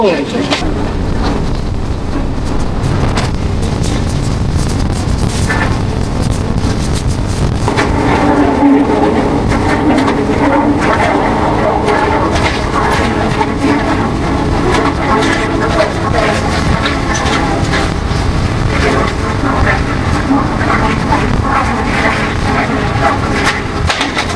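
The 15721 Paharia Express runs steadily from Digha toward NJP, a loud continuous rumble and rattle of a moving train with strong wind buffeting the microphone throughout.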